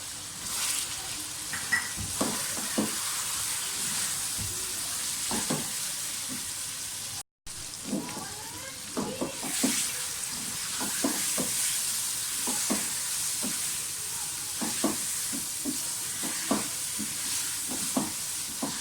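Ground spices and mutton for palak gosht sizzle steadily in a hot pot, a constant frying hiss broken by frequent clicks of stirring, close and continuous with a brief dropout partway.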